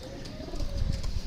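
Pigeons kept in a loft for sale, a low cooing from the birds running steadily under a broad background hum, rising slightly in the second half.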